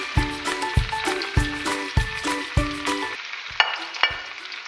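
Rosemary fries frying in hot oil, with a steady crackling sizzle and repeated sharp clinks of a utensil in a regular rhythm, close and fairly loud.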